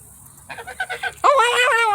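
Geese and ducks honk in the rain, starting with a short run of quick, rhythmic nasal honks and then rising into louder, overlapping calls close by.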